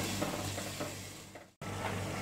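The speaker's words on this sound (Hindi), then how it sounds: "हाई फ्लेम पे मैंने मसाले को भी भून दिया है, 2-3 मिनट तक भून दिया है हाई फ्लेम पे।" Masala spices fry on a high flame with a soft, steady sizzle and the scrape of stirring, heard close and quiet. A brief dropout interrupts it near the end.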